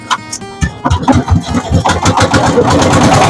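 A hired motorboat's engine cranks and catches near Bholaganj, Sylhet, on a river trip toward Sada Pathor. Rough sputtering bursts build into a steady, close, loud running rumble, with no talk.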